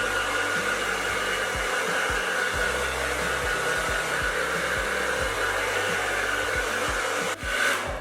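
A hair dryer blows steadily and loudly on natural hair, a constant close-up roar that dips briefly near the end before resuming.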